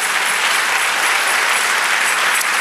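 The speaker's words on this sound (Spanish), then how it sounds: "Dale un aplauso al Señor." A church congregation breaks into dense, continuous applause for the Lord at the close of a sermon, loud and even throughout with no speech on top.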